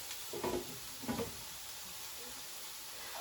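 Meal kit food frying in a hot pan on a home stove, a steady soft sizzle throughout with two brief louder crackling swells early on.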